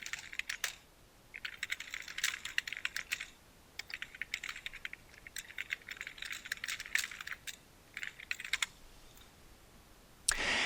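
Someone types on a computer keyboard in short bursts of quick clicking keystrokes, separated by brief pauses and ending in a louder clatter, fairly faint with no voices.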